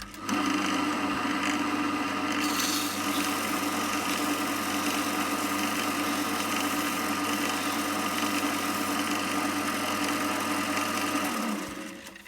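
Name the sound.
sanding wood ring on lathe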